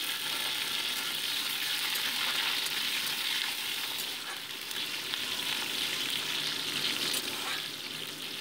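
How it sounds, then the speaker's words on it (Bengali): Tomato pieces fry in hot mustard oil with whole cumin seeds, a steady, dense sizzle that stays even and close throughout with no voices. "তারপরে অ্যাড করে দিচ্ছি আমি কেটে রাখা টমেটোর টুকরোগুলোকে ভালো মতো আমি 2 মিনিট ভেজে নিচ্ছি"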